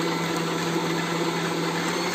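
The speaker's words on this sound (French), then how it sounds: "je vais venir émulsionner le tout pour incorporer de l'air dans la crème" Praline cream and butter whipped together with an electric mixer to work air into the cream, a steady continuous motor whir with a constant hum, close and even throughout.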